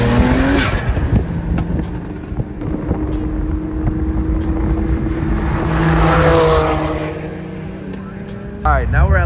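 A BMW M4 spins through a 360 on a Los Angeles highway during street racing. The engine revs loud and close, its pitch rises and falls, with wind buffeting, tire noise and people talking.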